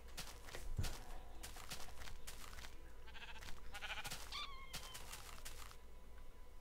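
Sheep bleating in the Minecraft video game, a few short wavering calls near the middle, heard over a steady background hum with no talk.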